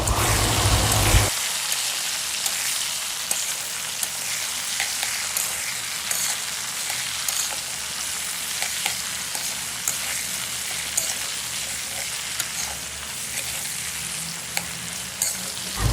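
Mustard oil sizzles loudly in a pan during plum pickle cooking, a dense continuous frying hiss that holds steady throughout with no voices.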